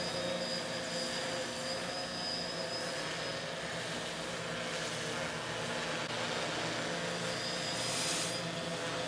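An XP2 quadcopter drone carrying a NAZA V2 GPS and a GoPro Hero2 hovers and slowly rotates, making a continuous, even, buzzing rotor hum at a moderate distance with no voices.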